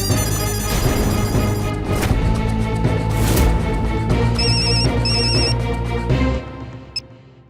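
A telephone rings loudly and repeatedly in a bright electronic trill, continuing for several seconds before cutting off abruptly near the end.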